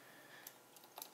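Soft typing on a computer keyboard, a few scattered key clicks over a faint room hiss, quiet and brief.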